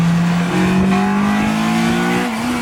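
A Honda Civic Mugen with a high-revving VTEC engine laps the Hungaroring circuit, its engine note climbing steadily under load, loud and close, with a brief dip before it pulls higher again.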